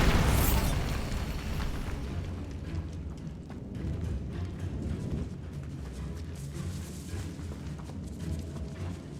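A Bombarda explosion spell detonates loudly at the opening in Hogwarts Legacy, a heavy boom that decays into a long rumbling tail with scattered debris-like crackles.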